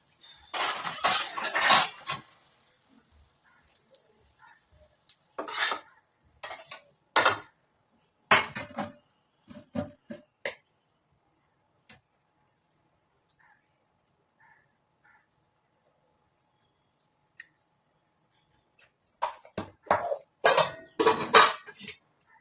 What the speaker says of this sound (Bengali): চল তাহলে মাকে ভাতটা বেড়ে দিই, তাই না?